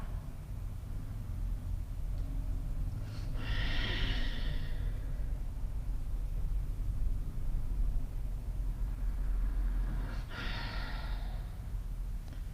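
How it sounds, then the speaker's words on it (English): Slow, deep breaths during a yoga flow, two long airy exhales a few seconds apart standing out over a steady low background rumble, close and moderately loud. "breathe into that. For 3 more rounds of breath."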